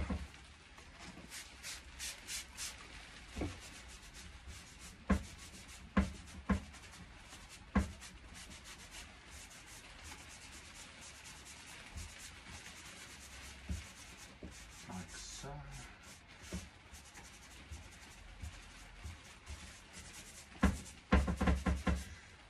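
Chalk-painted wood is gently rubbed by hand to distress it, giving a soft, continuous scuffing texture broken by occasional sharp taps and knocks, quiet and close, with no talking.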